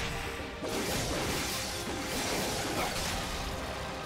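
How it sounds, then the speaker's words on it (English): Skeletons smashed to pieces in Darksiders 2, a fairly quiet stretch of crunching breaks and swishing blows that follow one another without a pause over a few seconds, with no talking. "I'm having so much fun just smashing skeletons to pieces"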